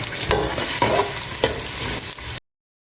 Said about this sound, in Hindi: प्याज को मैंने गोल्डन ब्राउन होने देना है